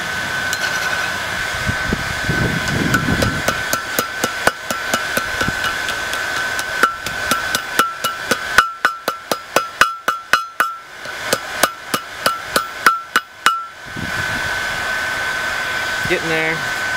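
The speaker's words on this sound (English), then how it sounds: "It's the first time I've ever used this horn on an anvil." Ringing hammer blows on a steel anvil horn while shaping a horn candle holder at a coal forge, a steady run of sharp metallic strikes, some quick double taps, close and loud, with a brief scrape and soft background noise between.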